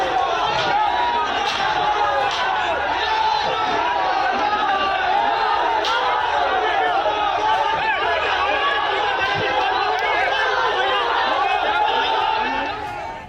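A large agitated crowd surges forward at a mosque-temple dispute site in Fatehpur, a dense continuous roar of many voices with shouts and hurried movement, steady and loud throughout.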